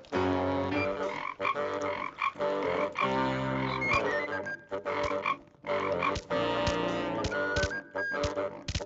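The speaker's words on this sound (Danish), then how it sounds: "Det mener du ikke, vi skal kæmpe imod en dum frø?" A large frog croaks repeatedly in a video game boss fight, deep bursts of croaking mixed with loud game music and effects, with brief gaps between.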